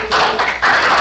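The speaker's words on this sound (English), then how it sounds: "let your applause finish" Audience applause fills a county commission board meeting, a dense, steady wash of clapping that swells and stays loud through the moment with no break.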